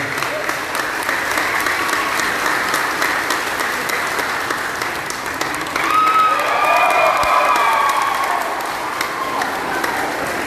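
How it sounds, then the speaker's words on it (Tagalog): A crowd at an outdoor relief operation in Calumpit and Marilao, Bulacan, breaks into sustained applause with some cheering, swelling louder midway as a few raised voices call out over the clapping. "Palakpakan po natin si Kuya Efe ng isang dalawang palakpak."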